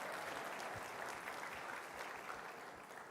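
Steady applause from a conference audience, a dense patter of many hands clapping at even loudness throughout with no voices over it.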